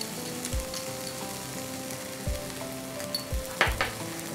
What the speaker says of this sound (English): Again mix them well.